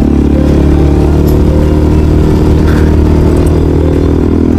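A motorcycle rides along a Malaysian toll road, a loud continuous engine drone with heavy wind rumble and steady road noise, close and unbroken throughout.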